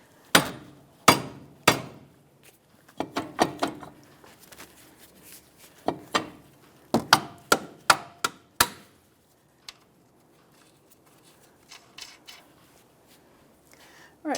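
A dead blow hammer strikes the strut assembly bolts on a 2009-2014 Nissan Maxima in sharp, close blows, first singly, then in quick clusters, with quieter clinks and handling noise between the bursts.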